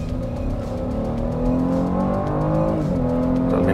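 Chevrolet Blazer RS V6 engine pulling hard at full throttle in sport mode, a loud, steady mechanical roar with rising pitch through the gears and a brief dip at a shift, heard from inside the cabin.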